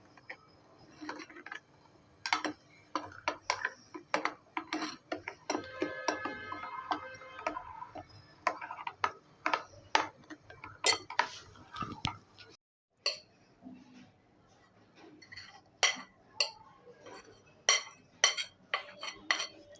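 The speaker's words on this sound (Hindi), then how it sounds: "अब ये इसमें थोड़ा थोड़ा करके इसको मिक्स करते जाएंगे" Coffee cake batter being mixed by hand as flour is added bit by bit, a spoon or whisk clicking and tapping against the bowl in a steady irregular rhythm, close and moderately loud, with a brief pause midway.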